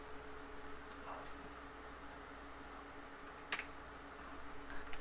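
Sparse, quiet key clicks on a computer keyboard while typing a search, a few scattered taps over a faint steady background hum, no talking.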